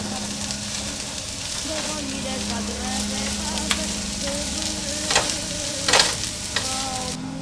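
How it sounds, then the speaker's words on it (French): Onions frying in olive oil in a frying pan, a continuous close sizzle with scraping stirs and a few louder clatters near the end, a steady low hum running underneath. "on met l'huile d'olive et les oignons dans une poêle et on laisse cuisiner"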